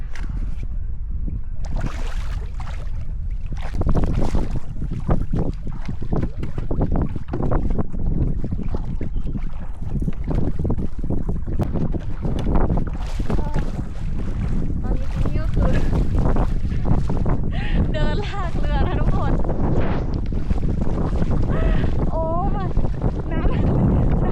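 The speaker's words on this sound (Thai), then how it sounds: "ลมก็พัดเรากลับไปฝั่งโน้น" Strong wind buffets a canoe on a shallow stretch of the Assiniboine River in Canada, a continuous loud roar of gusts and microphone wind noise throughout, with water sloshing and occasional voices mixed in.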